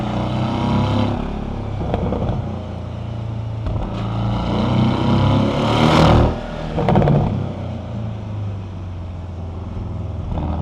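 A 2-liter car engine pulls hard through a corner on a night canyon run, a loud droning rev rising and easing with throttle, broken by brief shifts and a swell near the middle; no voices.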